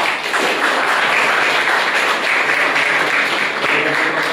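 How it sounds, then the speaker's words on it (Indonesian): Applause from an audience at the close of a group land-redistribution outreach presentation, a steady dense clapping sustained evenly for the whole stretch. "aplaus buat kita semua"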